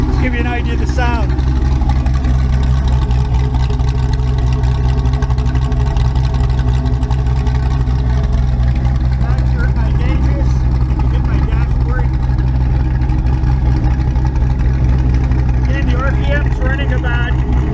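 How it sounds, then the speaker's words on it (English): A GTM ducted fan engine idling roughly while cold, a loud steady low drone filling the whole stretch, with someone speaking over it. "I started it up. It is idling. Still running rough because it's cold."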